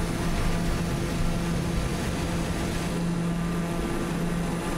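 An airplane in a flight simulator game drones steadily with a continuous engine hum and propeller tone, loud and close for the whole stretch, with no talk over it.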